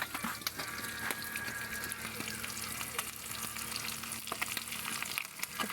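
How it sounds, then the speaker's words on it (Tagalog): Fish cooks in a pan in a rural home kitchen, with a constant faint sizzle and frying crackle, scattered clicks and a low background hum, fairly distant and quiet, with no clear talk. "luto po tayo ng isda"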